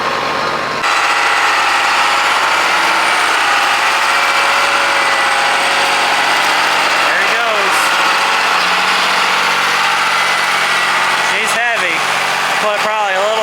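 A tractor engine idles through corn harvest with a loud, steady mid-range rumble. Voices talk over it in a radio-like exchange, and a few brief squeals cut across the drone.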